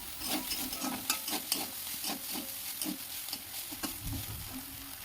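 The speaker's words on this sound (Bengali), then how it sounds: "তো দেখো আমি সবিনটা ভাজি চলো ভাজা ভাজা হোক সবিনটা" Soybean chunks fry in a pan over a medium gas flame, giving a steady close sizzle broken by scraping stirs and clinks of the spatula.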